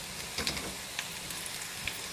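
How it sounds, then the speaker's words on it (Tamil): Garlic sautéing in oil in a pan, giving a soft, steady sizzle with a few faint pops and crackles and no talking. "இங்கே பாருங்கள், பூண்டு நல்லா வந்து செவக்க வதக்கியாச்சு."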